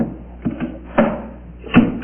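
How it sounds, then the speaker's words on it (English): Small cabinet doors on a TV stand table pop open and knock, a few short wooden clicks and thumps close by, spaced irregularly over a quiet room. "The doors pop out."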